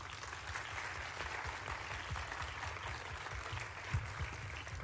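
Sustained audience applause from a crowd at a talk, steady dense clapping throughout with no speech over it.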